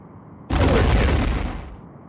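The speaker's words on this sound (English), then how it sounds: "Enemy ship is firing." Enemy starship weapons fire in the Star Trek: A Final Unity game, a single loud booming blast that hits abruptly, sustains for about a second, then cuts off, with no talk over it.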